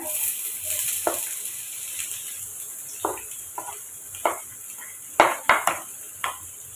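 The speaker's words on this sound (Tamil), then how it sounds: "எண்ணெய் காஞ்சதும் சோம்பு பொரிஞ்சதும் கட் பண்ண வெங்காயத்தையும் சேர்த்துக்கோங்க" Cut onions and fennel seeds fry in hot oil with a steady sizzle, while a spoon scrapes and clinks against the pan in scattered sharp knocks, up close and with no talking.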